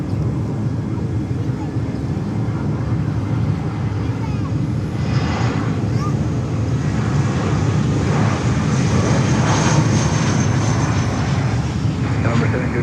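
Allegiant airliner arriving at Fort Lauderdale Hollywood airport, a steady loud engine roar that swells slightly toward the end, with brief voices talking underneath.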